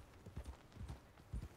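Hooves of a galloping horse in the video game Red Dead Redemption 2, three quick bursts of clip-clop footfalls in a steady rhythm, close and clear with no talk.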